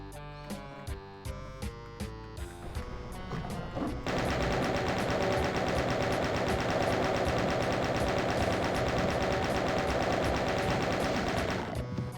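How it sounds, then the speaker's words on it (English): Rapid chain gun fire in a video game, a dense, continuous stream of loud shots after a few sparser opening bursts, sustained for about eight seconds before cutting off. "Problem with the chain gun in this game is that it uses the same ammo as the pistol."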